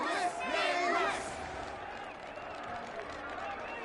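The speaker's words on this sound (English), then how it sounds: "Let us gift our applause and cheers to these brave and dauntless Nameless." A crowd in Honkai: Star Rail, at a Penacony celebration, breaks into loud cheering and chanted shouts that swell in the first second and then fade to a quieter murmur.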